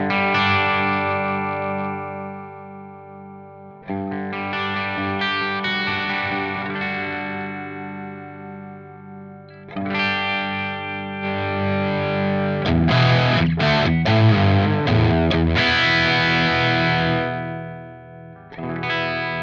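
Heavily distorted electric guitar riffs through a Line 6 Metallurgy Thrash amp on its rhythm channel, loud chugging chords with sustained ringing notes, pauses between phrases and a busier, denser passage near the end, no talking.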